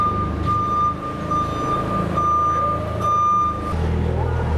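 A truck backing a trailer into a tight spot at a lumber yard, its steady high reversing beeps repeating over a low diesel rumble, with brief voices in the background.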